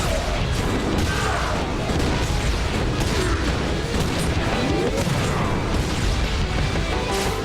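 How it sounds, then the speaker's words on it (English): Explosive shotgun blasts in the game Iji, a dense, loud stretch of booms, crashes and pops with no pauses, layered over a continuous game soundtrack and effects. "I gotta shoot people with my explosive shotgun."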